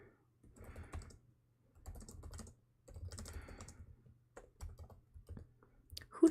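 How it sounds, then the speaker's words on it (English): Someone types on a computer keyboard in several short bursts of close, rapid key clicks, separated by brief pauses and with no talking. "pardon me while I type something up"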